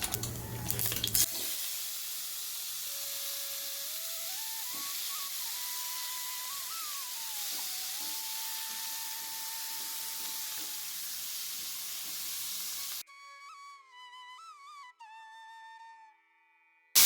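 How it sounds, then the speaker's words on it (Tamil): Drumstick and brinjal pieces go into a pot of simmering sambar, giving a steady, close sizzling hiss with a light melody running beneath, until the sizzle drops away near the end. "இப்போ முருங்காயும் கத்திரிக்காயும் உள்ளே சேர்த்துடலாம்"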